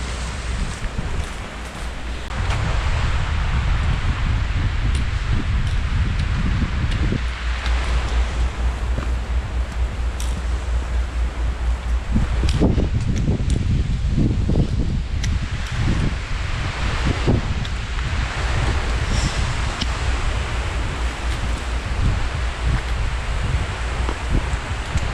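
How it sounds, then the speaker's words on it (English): Strong wind buffets the microphone outdoors near Skagway, Alaska, a loud, continuous roaring rush with gusty low rumbles and rustling swells that carries on without a break and has no talk over it. "Did get us back up in the wind though."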